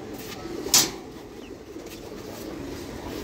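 Pigeons in a loft of older birds coo faintly in the background, with one brief sharp rustle or flap early on, over a quiet steady hum.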